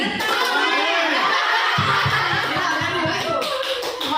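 A group in a school or workshop session claps out a rhythmic clapping chant together, with patterned claps and chanted voices mixed with laughter and chatter, close and lively.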